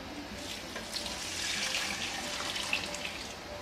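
Water poured into a pot of 1.5 cups of rice for boiling, a steady hissing splash running for a few seconds at moderate level with no talk.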